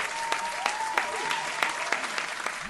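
Audience applause welcoming guest Paulina: dense, steady clapping from a crowd, fairly loud and sustained from start to finish with a few sharper accents.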